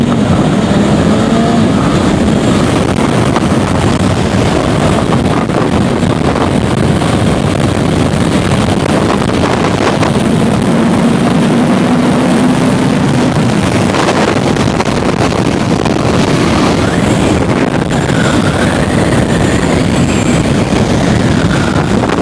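A Kawasaki Ninja sport motorcycle is ridden on a Florida road, its engine whine steady and rising in pitch in places, largely buried under constant roaring wind buffeting the microphone.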